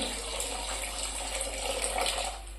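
Water steadily poured into a pan of restaurant-style egg masala gravy, a continuous close splashing pour lasting a couple of seconds before easing off.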